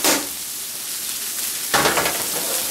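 Rice dropped onto a hot teppanyaki griddle hisses into a steady sizzle, with a second louder burst of frying as more lands on the metal, close and without talk.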